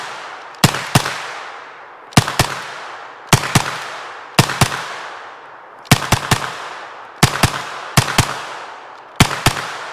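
Pairs of sharp, loud gunshots from a Nova NAK-9R 9mm AK-pattern carbine made in Cugir, Romania, fired without a muzzle brake using a Scorpion magazine, with the double taps repeating at short, regular intervals and no talking.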